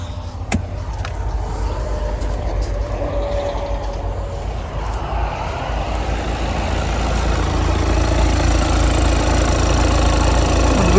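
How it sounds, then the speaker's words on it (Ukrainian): A 2019 Volkswagen Passat B8 2.0 TDI diesel engine idles steadily from cold with a low, even rumble, holding a constant hum throughout with no voices. "Двигун працює гарненько."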